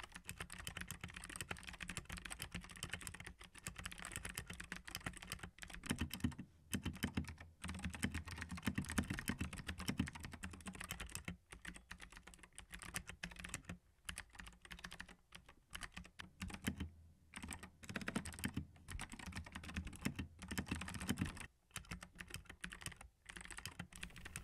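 A keyboard is typed on steadily over three layers of mouse pads as a sound test, giving a dense, continuous stream of muffled, thocky keystrokes with brief pauses, close and prominent.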